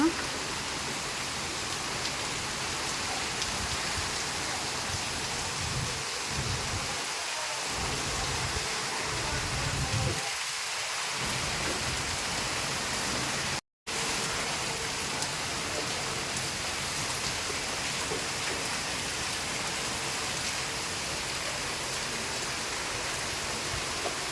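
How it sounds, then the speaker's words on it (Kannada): Heavy rain pours in a steady, dense roar that continues unbroken for the whole stretch, with a brief dropout partway through. "ಹೊರಗೆ ನೋಡ್ರಿ ಮಳೆ ಬರಕತ್ತವು ಜೋರು"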